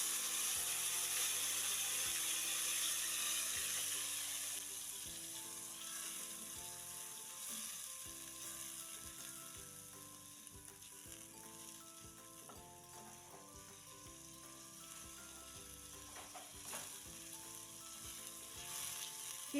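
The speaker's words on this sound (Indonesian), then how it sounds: "Kita tumis sampai bumbunya matang." Ground spice paste sizzles steadily as it is sautéed in a pan for a beef and potato semur, with a bright continuous frying hiss and the occasional scrape of a stirring utensil, with no talking.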